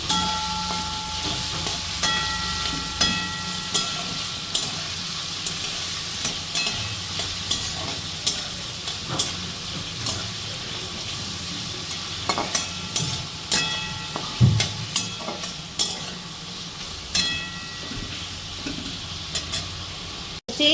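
Pointed gourd fries steadily in hot oil, a constant close sizzle punctuated by regular clicks and scrapes of a spatula stirring it, with no talking.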